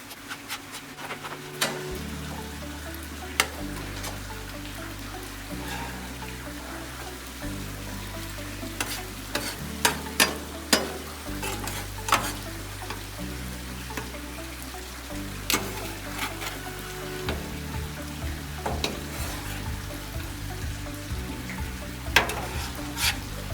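Hibachi chicken sizzling on a Blackstone griddle: a steady, loud frying hiss runs throughout, punctuated by sharp spatula scrapes and clacks against the flat-top, with no talking.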